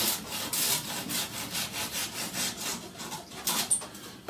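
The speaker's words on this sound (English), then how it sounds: "we'll cut off as much as we can the excess horn." A hand saw cuts away excess horn on a wooden arrow shaft with quick, regular back-and-forth rasping strokes, close and steady, with no talk.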